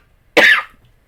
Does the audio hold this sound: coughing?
yes